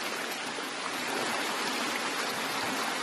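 Water pours from a breached lake through a coffee plantation in Chikkamagaluru, a loud, steady, close rush of flowing water that holds even throughout, with no voices.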